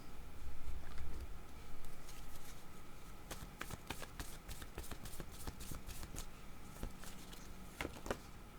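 Tarot cards are shuffled by hand for a reading, a steady soft riffling patter with repeated crisp flicks and slaps over several seconds, close and alone without talk.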